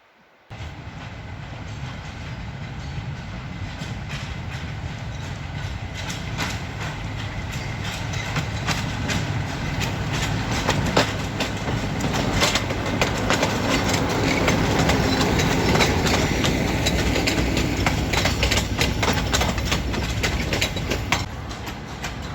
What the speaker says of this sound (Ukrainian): Поки ми тут гуляємо, чутно йде той трамвайчик.